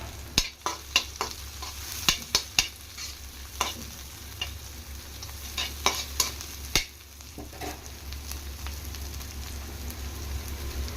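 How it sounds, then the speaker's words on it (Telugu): Vegetables and curry leaves frying on high flame for veg fried rice, a steady crackling sizzle broken by repeated sharp clacks of a spoon against the pan, close and without talk. "ఈ విధంగా కొంచెం ఫ్రై అయిన తర్వాత ఇందులోనే కరివేపాకు వేసుకుంటున్నాను"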